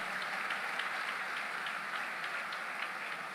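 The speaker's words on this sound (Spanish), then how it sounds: "Démosle un fuerte aplauso." A Good Friday church congregation applauds, producing a dense, even wash of clapping that holds steady throughout without any speech on top.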